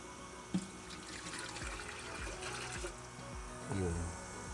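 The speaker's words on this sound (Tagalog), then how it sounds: "Lagyan natin ng tubig." Water is poured into a dirty electric airpot hotpot that fails to pump, a steady splashing, trickling stream that runs for several seconds close by.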